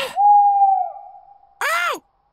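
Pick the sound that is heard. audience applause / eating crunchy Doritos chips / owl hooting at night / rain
owl hooting at night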